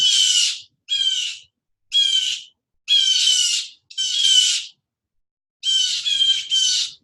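Short bursts of bird calls, about seven phrases spaced over several seconds with gaps of silence between, bright and fairly close, no voices.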